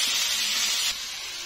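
Garlic sizzles gently in a hot pan while cooking for a chicken steak sauce, a steady close hiss that dips slightly partway through and carries on without any talk.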